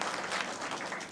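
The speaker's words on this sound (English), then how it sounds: "Another round of applause," Brief burst of audience applause at a live KCPE 2023 results announcement ceremony in Kenya, steady and dense, with no break through the short moment.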